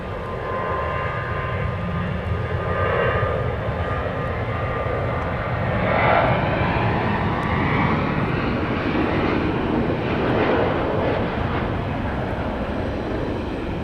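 A 737-700 airliner departs Dallas Love Field, its jet engines producing a sustained, broad roar that swells gently and rolls on for about fourteen seconds at a moderate distance.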